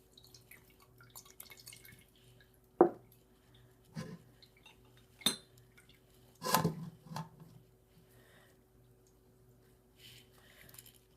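Herbal flower tea dripping through a strainer lined with cheesecloth, a few separate soft drips and splashes spaced apart over quiet room tone, one longer wet trickle near the middle.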